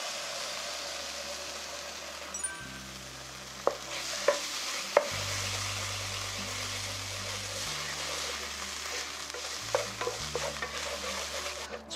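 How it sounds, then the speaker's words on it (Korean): Tomato and vegetables are stir-fried in a pan for a Spanish omelette, giving a steady soft sizzle with a few sharp clicks and scrapes of the utensil against the pan. "여기에 토마토를 넣고 다시 한번 살짝 볶아주세요"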